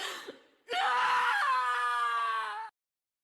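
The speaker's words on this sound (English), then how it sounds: "It's definitely a more appropriate scream than the original version." A demon's drawn-out, harmonic scream from Castlevania: Symphony of the Night rings out loud and alone for about two seconds, after a brief strained onset, then cuts off sharply into silence.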